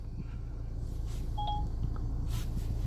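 A short series of phone dialing tones comes from an Alpine F309E car head unit in a Toyota, two faint beeps heard quietly over a steady low hum inside the car.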